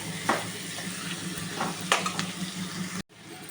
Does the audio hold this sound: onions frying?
yes